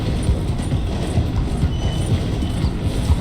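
A Red Dead Redemption 2 train slowing through a station gives off steady, loud rhythmic clatter and chugging, mixed with what sounds like hoofbeats pacing alongside, and no voices.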